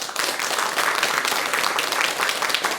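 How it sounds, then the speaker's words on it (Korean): A Buddhist lecture audience in Korea breaks into loud, dense applause that runs evenly and continuously from start to finish, with no talking over it. "돌아가셨지만 박수를 한번 보내주십시오."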